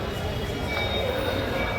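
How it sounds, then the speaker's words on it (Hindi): Bhootnath metro station on the newly opened Patna Metro: a steady, dense rumble of a train with a faint high whine, mixed with a busy murmur of voices. "देखिए कुछ इस तरह से ये भूतनाथ मेट्रो स्टेशन है।"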